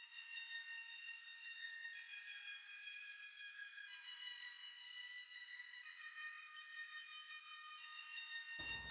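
A one-shot synth lead sustains a bright, whistle-like tone with a stack of steady overtones and a slight wavering texture. It plays alone for nearly nine seconds and cuts off abruptly at the end.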